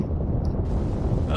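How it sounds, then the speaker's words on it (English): A huge rumbling blast fills a video game nuke event, a deep roar that holds steady for about a second and a half. It is loud, sounds close, and nobody talks over it. "Big explosion."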